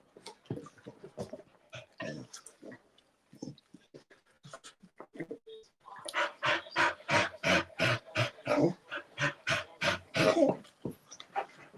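Two dogs wearing cones after having lumps removed pant in quick rhythmic bursts close to the microphone, with whimpers mixed in. The panting grows louder and steadier in the second half, and no voices are heard.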